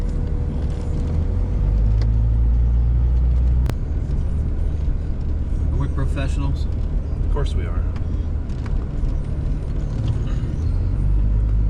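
A car's engine rumbles low and steady as it pulls over to park by a curb, a continuous close drone running beneath people talking in the cabin.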